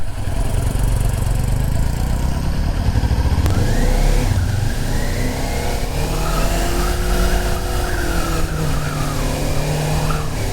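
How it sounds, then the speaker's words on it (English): A car drives past near a motorcycle practice area. Loud engine and tire noise runs steadily throughout, with the pitch rising and falling as it goes by. "here comes the car"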